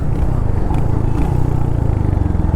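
A Royal Enfield Hunter 350 motorcycle brakes hard from 80 on a road, a loud, close, steady engine rumble with rushing wind throughout.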